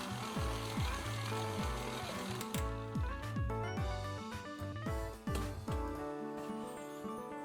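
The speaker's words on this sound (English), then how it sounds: "Knead on medium speed for a few minutes until they are mixed in evenly." A stand mixer kneads shokupan dough with dried basil at medium speed, giving a quiet, rhythmic mechanical clatter and knocking that repeats steadily, with no voices.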